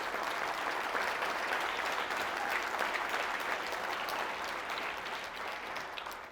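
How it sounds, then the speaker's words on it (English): Sustained audience applause for a group of student scholars at a conference opening, steady and dense throughout and fading slightly toward the end. "let's give a round of applause to the Ron Paul Scholars"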